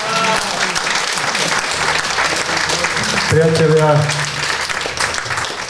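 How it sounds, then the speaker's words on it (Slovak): An audience at a talk show breaks into sustained applause, dense clapping that carries on throughout while someone speaks over it. "to si zaslúži potlesk"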